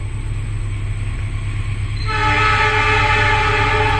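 A special KLB train hauled by a locomotive, with a 2K1 executive car behind it, passes a station with a loud, close rumble, and a sustained horn blast rises over it halfway through.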